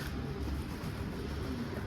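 A pet pigeon-like bird coos softly indoors, its low murmuring calls faint beneath a steady background hum.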